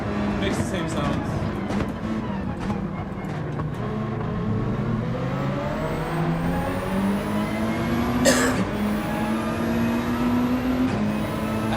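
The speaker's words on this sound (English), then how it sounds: "I think this car sort of sounds like the 4C. It makes the same sounds." A race car engine in Gran Turismo 7, said to sound like an Alfa Romeo 4C, drones loud and steady throughout, its pitch slowly climbing under acceleration with a brief sharp burst near the end.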